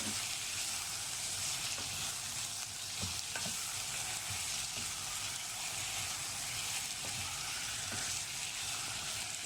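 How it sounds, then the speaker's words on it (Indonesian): Beef pieces sizzle steadily in spice paste in a pan while being stirred for soto Betawi, a dense continuous frying hiss with occasional scrape of the utensil, close and without talk. "Diaduk hingga semua dagingnya terbaluri bumbu."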